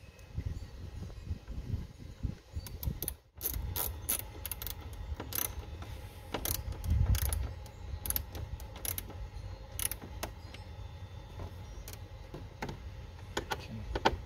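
A screw is threaded in by hand during a blend door repair on a VW New Beetle, giving a run of close, quiet ratcheting clicks and small mechanical ticks with brief pauses.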